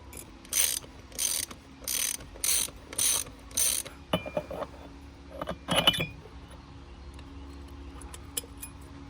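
Mechanical ratcheting and clicking as top hats for an air ride setup are bolted onto a 1982 second-generation Honda Civic Wagon, heard as six regular bursts of ratchet strokes followed by scattered metallic clinks and taps, close up with no talking.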